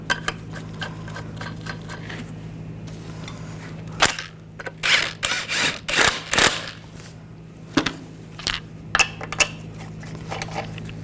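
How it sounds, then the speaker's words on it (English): Metal lug nuts clink and rattle as they are started onto the threads of a front wheel hub on a 2014-2018 GMC Sierra 1500, several short close metallic clatters in bursts over a steady low shop hum. "Now put the wheel on. Get the lug nut started."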